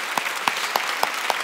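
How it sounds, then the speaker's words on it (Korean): Church congregation clapping for God at a New Year's Eve service, a steady wash of many hands with a few sharper accents, moderately loud and without speech. "하나님께 박수."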